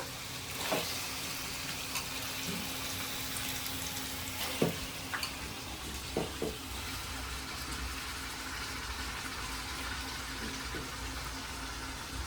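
Chicken hits a pan of fried ginger paste, giving a faint continuous sizzle with a few sharp clacks and scrapes of a utensil scattered through, against a quiet kitchen background.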